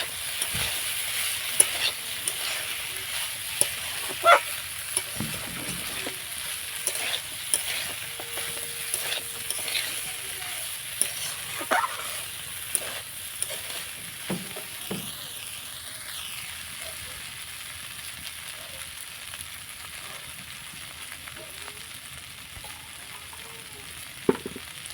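Eggs are stir-fried in a pan with spices for an egg and fig curry, giving a soft, continuous sizzle under occasional spatula scrapes and knocks, quiet and close.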